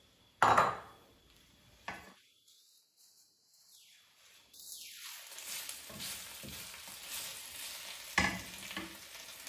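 Spinach wilting in olive oil in a pan gives a steady low sizzle with occasional stirring clatters and scrapes, moderately close, with no talk over it.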